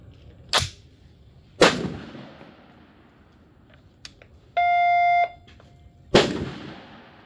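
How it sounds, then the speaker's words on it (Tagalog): Three loud, sharp rifle shots from a Ruger SFAR in .308 ring out outdoors, spaced a second to several seconds apart, each leaving a brief echoing tail, with a short electronic beep between the second and third. "First shot, Ruger 308."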